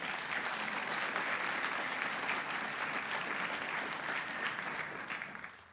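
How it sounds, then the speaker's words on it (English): A crowd at a Martin Luther King Jr. celebration ceremony claps steadily, a sustained wash of applause that holds its level and then tapers slightly at the end. "Please give them a big round of applause."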